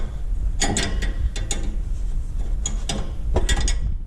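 A ratchet snugs a jam nut on a Ford F-350 suspension, giving short bursts of sharp close clicks separated by pauses.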